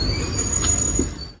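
Garib Rath Express train at Saraigarh junction, a loud, close rumble of rolling wagons with a thin high wheel squeal ringing above it for just over a second.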